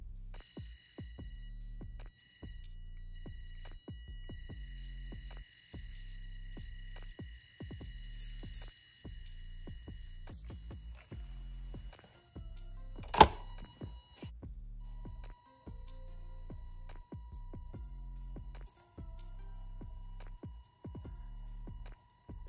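Motor of a Panda Hobby Tetra V2 1/24 RC crawler at low throttle gives a faint, low rhythmic throbbing hum in repeated short pulses, with one brief sharp click midway.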